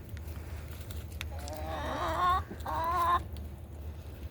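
Backyard chickens in a suburban flock cluck and squawk in two close bursts of hen calls, moderately loud over a low background hum.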